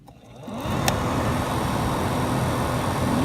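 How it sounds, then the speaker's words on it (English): A car's HVAC blower motor, replaced in a GMC Acadia, Chevrolet Traverse or Buick Enclave, spins up after its connector is plugged in, building within half a second into a steady, loud broadband whoosh of rushing air that holds without a break. "The blower motor's working."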